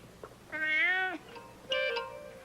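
A cat meows twice, near and clear: a long drawn-out meow followed by a shorter one after a brief pause, with no other sounds.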